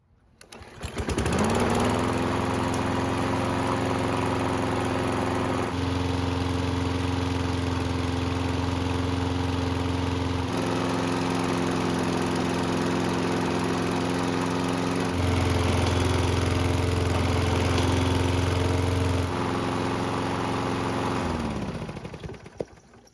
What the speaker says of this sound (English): it's best to run the engine and get the oil good and hot